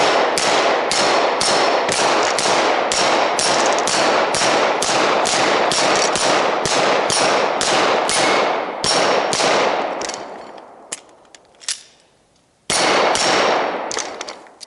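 A long run of rapid pistol shots fired at small targets, sharp reports coming in an even, quick rhythm for about ten seconds, a brief lull, then another fast burst of shots.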